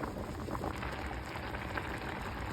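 Water for rice bubbles at a steady, busy boil in a stovetop pot, a continuous close hiss and crackle with no voices.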